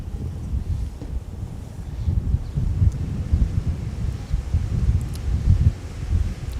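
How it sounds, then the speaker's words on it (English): Gusty wind buffets an outdoor microphone at Minneapolis–St. Paul Airport in windy conditions, a low rumbling roar that swells and eases in uneven surges throughout, with no voices. "So with the windy conditions today"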